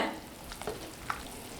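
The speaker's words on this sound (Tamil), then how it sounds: "இப்போ பத்துலேருந்து பதினஞ்சு நிமிஷம் பக்கம் குழம்பு நல்லா கொதிக்க வச்சுட்டேங்க" A dried anchovy fish curry boils in a pot on the stove, giving a soft, steady bubbling sizzle with a few small pops, heard close up and fairly quiet.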